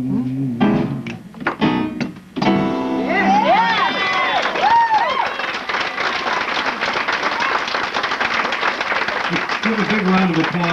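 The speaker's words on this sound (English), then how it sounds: "Round of applause" Audience applause follows the last song at a cabaret night, beginning as the band and singer finish and swelling into steady, dense clapping with some cheering and shouts from the crowd.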